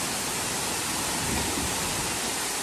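Nhavankond waterfall at Talwa, Devgad, in the Konkan, roars in a thick, constant broadband rush, loud and close with no pauses and no voices.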